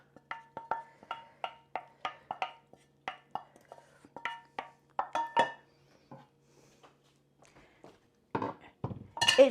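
Yorkshire parkin cake batter is stirred in a bowl, a utensil tapping and clinking against the sides in a quick regular series of sharp knocks, then a pause and a few louder scraping knocks at the end, with no talking.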